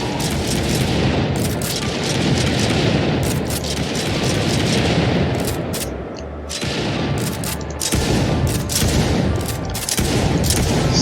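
Shotgun fire during a weapon test in an Unreal Engine 4 third-person shooter, a dense run of loud, closely spaced blasts with booming low end, continuous throughout with brief gaps, no talking.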